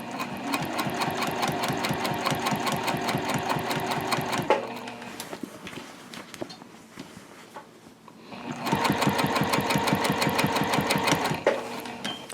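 A sewing machine top stitches a zip top tote bag in two loud, fast, steady runs of stitching separated by a quieter pause with handling sounds.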